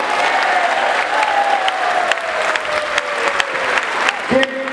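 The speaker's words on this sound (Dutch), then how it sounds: "een applaus voor onze sponsors" Applause for event sponsors fills a hall, a dense steady patter of many hands clapping with a crowd murmuring underneath and a brief tonal sound near the end.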